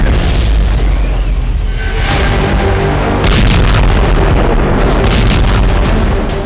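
Missile explosion in Tel Aviv: loud, continuous heavy booming and rumbling, with a fresh blast surging in around the midpoint and a second one later, dense and close.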